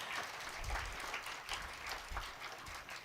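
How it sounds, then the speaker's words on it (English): An audience at an award ceremony applauds, dense sustained clapping from many hands filling the hall at steady volume with no speech. "Please clap as loud as you can."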